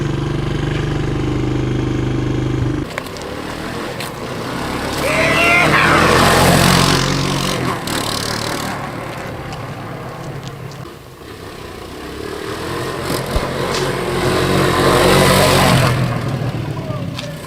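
A 1985 Honda ATC200M three-wheeler engine starts up and runs, a steady mid-pitched motor with rising revs partway through, close by and fairly loud, with voices talking over it.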